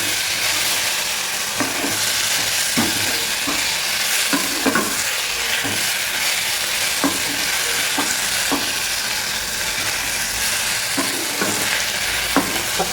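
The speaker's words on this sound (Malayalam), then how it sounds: "ഒരു തക്കാളി ചെറുതായി കരിഞ്ഞത് അതുകൂടെ ഒന്ന് വഴങ്ങാട്ടെ" Green chillies and slightly charred tomato sizzle in a hot pan for an egg ghee roast, a steady frying hiss broken by repeated scraping stirs of the spoon, close and fairly loud, with no talking.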